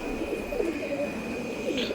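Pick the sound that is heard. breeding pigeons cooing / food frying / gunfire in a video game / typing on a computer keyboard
breeding pigeons cooing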